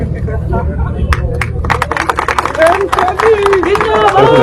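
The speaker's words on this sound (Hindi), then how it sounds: "जोरदार तालियों के साथ उनका स्वागत करें आदरणीय बहन किरण चौधरी जी" Crowd applause and cheering at an outdoor Congress party rally in Haryana village Dhand, welcoming leader Kiran Chaudhary, with claps building over several seconds amid babble and voices.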